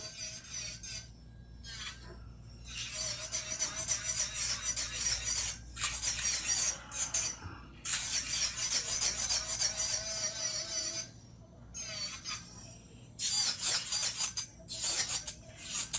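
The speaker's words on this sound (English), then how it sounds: "I'm just going through and just very lightly, shaving or evening out anything." A small electric nail drill grinds as it lightly files and evens out fingernails, in long stretches, stopping briefly several times before starting again, close up and steady.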